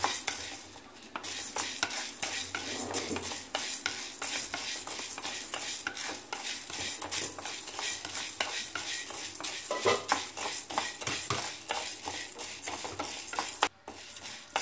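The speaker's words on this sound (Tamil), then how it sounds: "முதல்ல கடலைப்பருப்பு போட்ட உடனே இந்த மாதிரி கலகலான்னு சத்தம் வராது." Chana dal dry-roasting in a kadai gives a steady, close crackle and rustle, with repeated scraping and stirring strokes from a spatula against the pan throughout and no talk.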